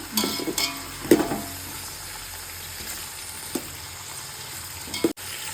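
Vegetable pulao ingredients fry in a pan with a soft continuous sizzle, punctuated by a few sharp clinks of a spoon stirring against the pan.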